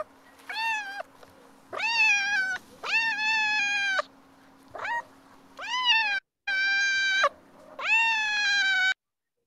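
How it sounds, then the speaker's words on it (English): A cat meows six times in a row, each call drawn-out and clear, with short pauses between them and a faint steady hum underneath. "Cat."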